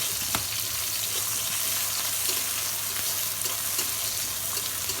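Thick-cut onions and crushed garlic frying in a pan of spices, a steady close sizzle with occasional stirring clicks, no voices.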